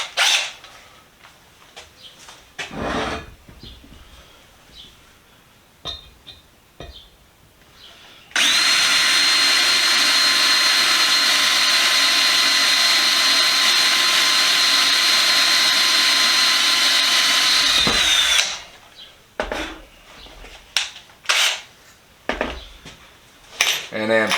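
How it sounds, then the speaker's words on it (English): A power drill bores a small starter hole into a cast iron chiminea, a steady loud whine lasting about ten seconds, preceded and followed by scattered clanks and handling noises. "So I want to drill a small small hole to start out with."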